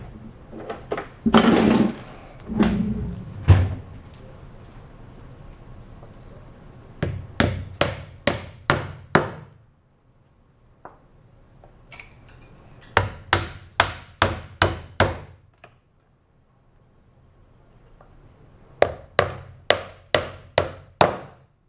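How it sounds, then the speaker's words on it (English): Hammer blows drive nails into a wooden trebuchet frame, landing in quick bursts of four to six sharp, loud strikes separated by short pauses, with no talking. "nail it in place with about 8 nails"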